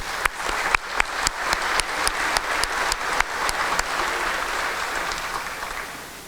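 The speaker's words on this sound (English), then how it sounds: "Give him a round of applause." Steady applause from an audience at a Living Legends award ceremony honoring a recipient, many hands clapping continuously with a few sharper claps standing out, fading slightly toward the end.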